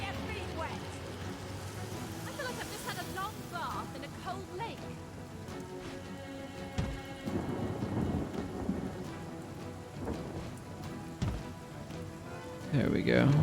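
Rain pours steadily while thunder rumbles and cracks several times, growing louder toward the end, from a rain spell in the video game Divinity: Original Sin, with game music and effects layered over the storm.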